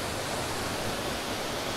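Waterfall at SummerHill, a dense, steady roar of falling water with no breaks, loud and close, filling the whole moment without any voices.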